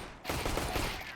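Glock pistol fire in a competitive Counter-Strike-style shooter match, a dense burst of sharp shots that starts abruptly after a brief quiet and runs loud and continuous to the end.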